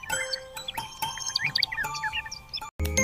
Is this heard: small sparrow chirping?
yes